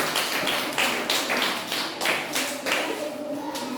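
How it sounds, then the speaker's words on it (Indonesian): Steady rhythmic clapping from a primary school class at SDN 071160 Dahana Esiwa, Namohalu Esiwa, a full, busy patter of many small hands holding fairly even throughout with no voices over it. "Tepuk tangan kepada mereka dulu."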